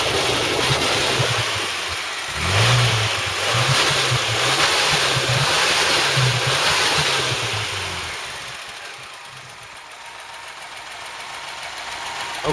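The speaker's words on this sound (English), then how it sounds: "Let's get in and give it some rev." A Ford Cortina Mk3 with a newly fitted engine revs in a low, throaty rumble that surges and eases in repeated pulses, loud and close with no talk over it.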